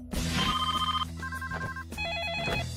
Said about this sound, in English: the phone is ringing off the hook with tips